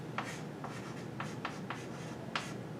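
Math being written on a board: short scratchy strokes come in an uneven series of about seven quick marks over a steady faint background, close and without speech.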